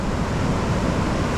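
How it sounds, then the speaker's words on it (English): Rough ocean surf at a Florida beach, a dense continuous roar of breaking waves and wind rushing across the microphone, loud and steady with no distinct breaks. "Show them how crazy the water is."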